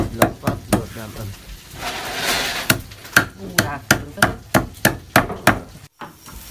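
Lemongrass being minced with a knife on a cutting board, a run of sharp, evenly spaced chops with a short pause partway, close and loud, with talk between strokes.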